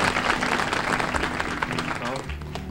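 Studio audience applause on a 1950s television talk show, a steady dense patter of clapping with some crowd murmur throughout, fading slightly near the end.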